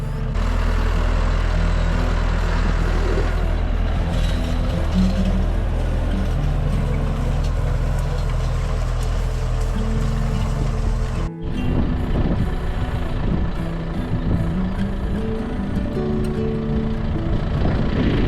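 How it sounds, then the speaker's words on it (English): A baler works silage on a dairy farm, its loud, steady mechanical drone running continuously, with a brief abrupt break partway through before the heavy rumble resumes. "By the time the baler arrived, it was perfect."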